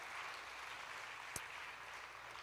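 Far-off, faint applause from a church worship audience forms a soft, steady wash of many clapping hands, with one sharp click standing out partway through.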